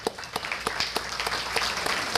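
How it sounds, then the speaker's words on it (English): Guests at a chamber of commerce lunch give a round of applause, with crisp individual claps standing out at first before blending into steady, moderately close clapping. "Let's give them a round of applause, please."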